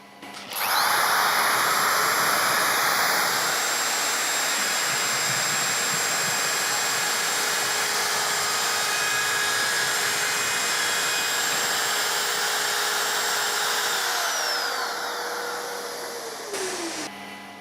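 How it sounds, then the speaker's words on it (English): A Festool OFK 700 edge router with dust extraction attached trims banding along a panel edge, a loud, steady high-pitched whine running almost the whole time before winding down near the end. "now we're ready to trim the edging"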